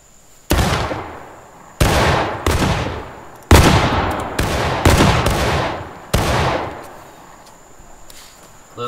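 Musket volleys fired by files in the Civil War game War of Rights: about eight loud, sharp cracks in an uneven sequence, each trailing off into a long rolling echo, with no talk over them.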